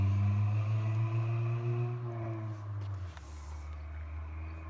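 A small Honda car fitted with an oversized exhaust pipe drones past, its loud, steady buzzing engine note bending slightly and dropping in pitch as it goes by.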